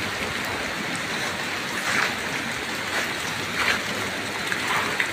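Heavy, steady rain from Typhoon Kristine with wind, a constant dense hiss of downpour that swells slightly in a few gusts.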